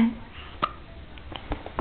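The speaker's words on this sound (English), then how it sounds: "I have the hiccups" A child's hiccups, several short sharp catches spaced irregularly, close and clear over a quiet room.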